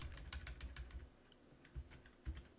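Rapid keyboard typing on a computer while a keyboard shortcut is pressed, a quick cluster of close key clicks followed by two separate heavier keystrokes, alone and fairly faint.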